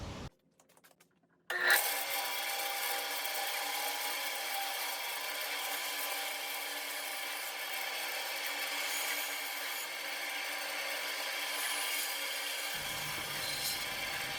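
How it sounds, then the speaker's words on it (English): Bandsaw cutting a traced maple-leaf pattern from wood: after a short quiet start the blade starts up and runs continuously, a steady close whirring hiss with the cut grinding through, until the low motor hum drops near the end. "And then I'm going to go to the bandsaw and cut that out."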